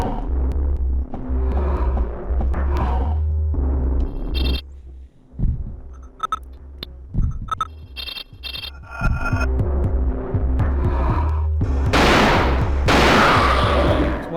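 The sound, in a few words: pistol gunshots in the video game Alone in the Dark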